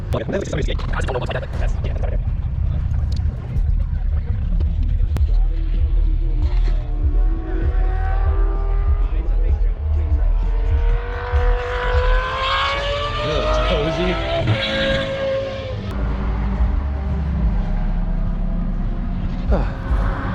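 Engines drone and rev steadily as cars pass at a track festival, with a rising whine in the middle and constant road noise throughout.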